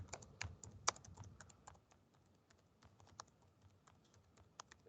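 Someone types on a computer keyboard in quick, uneven bursts of close, crisp key clicks with short pauses, faint overall.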